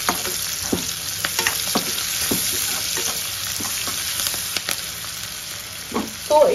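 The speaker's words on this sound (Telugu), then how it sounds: "సో వేయించుతున్నాను." Food sizzles steadily in a hot pan for Rayalaseema-style chitrannam made with leftover rice, with constant frying crackle and occasional stirring scrapes, close and loud.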